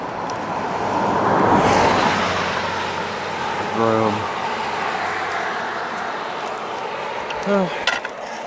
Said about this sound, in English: Oh, here comes a car, so it'll probably get loud here in a minute.